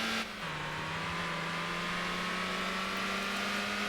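A racing car engine in a Motor Town race drones loud and near, dropping pitch at one gear change then holding a steady rising whine while another car overtakes; no one talks.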